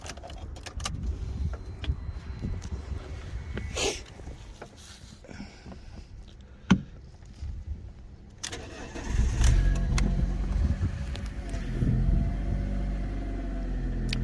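A Fiat 500 bought from a salvage auction cranks and catches, with a sharp key click early on, then settles into a steady, louder idle that runs on to the end, with no talking.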